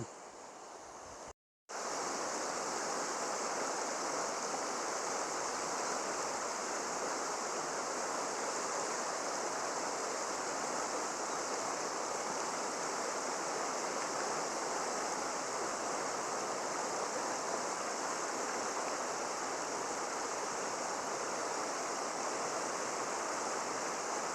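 Flowing river water at Kaeng Chang Mop rushes in a steady, dense wash, heard close and continuous after a brief cut near the start, with no talking.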